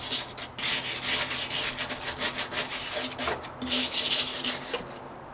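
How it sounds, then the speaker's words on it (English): A scraper drags across moldy plywood beneath a deck in quick, uneven rasping strokes, close and scratchy, with short pauses between bursts. "just scraping this, that's taking some of the mold off"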